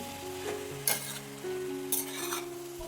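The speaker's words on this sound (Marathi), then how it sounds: "आता इथे बारीक चिरलेली मेथी घालून घेऊया" Chopped fenugreek leaves tip into a sizzling tomato and potato curry, bringing a steady frying hiss with a couple of brief spoon clinks and stirring scrapes against the pan, close and moderately loud.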